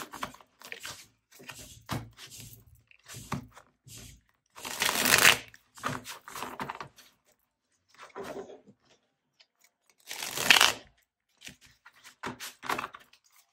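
A tarot card deck being shuffled, with two loud riffling bursts and softer card handling, taps and rustles in between, close and clear with no talking.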